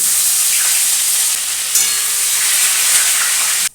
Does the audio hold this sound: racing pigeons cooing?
no